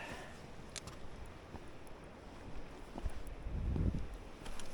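Wind gusts across a Finnish seashore during December sea trout fishing, a steady low rushing that swells louder toward the end, with no talking.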